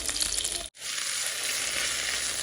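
Stuffed chicken frying in a pan gives a loud, steady sizzle that runs the whole time, broken by one brief drop to silence early on before the hiss comes straight back.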